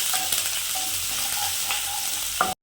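Onions and curry leaves frying in a pan for chicken kondattam, a loud, steady close sizzle with faint stirring clinks, cut off abruptly at the end.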